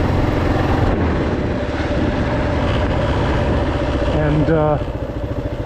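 A Kawasaki KLR 650 adventure motorcycle engine runs loud and close on an ATV trail, a steady low throbbing rumble under a man's speech that eases slightly near the end.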